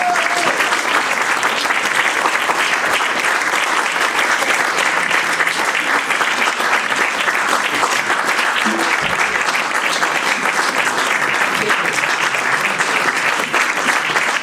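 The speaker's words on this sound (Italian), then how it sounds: "vi chiederei un applauso molto grande, ma in particolare molto lungo per i musicisti" A concert audience gives the musicians a long, dense round of applause, loud and steady from start to finish with no break.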